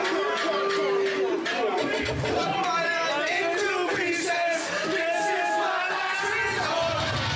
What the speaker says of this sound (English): you hear the crowd fired up, as they should be